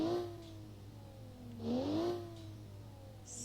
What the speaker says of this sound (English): Love the blow-up valve noise.